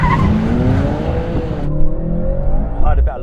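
A BMW M3 race car accelerates away during a race against an AMG C63 and Audi RS4, loud engine roar with rising gear tones and tire noise, close and dominant, cut off abruptly partway through.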